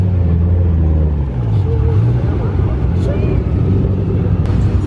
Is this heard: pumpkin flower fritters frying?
no